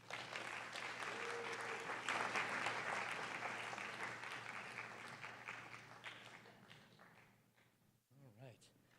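Audience at a university honors colloquium applauding steadily for several seconds, a dense patter of clapping that slowly fades, with a voice coming in near the end.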